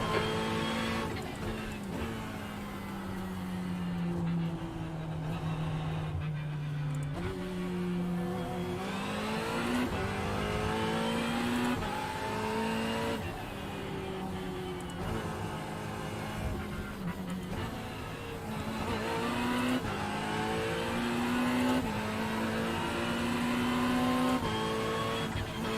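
Race car engines roar continuously in a Hockenheim endurance racing video game, the pitch rising and falling through gear changes and corners, with another car audible close behind.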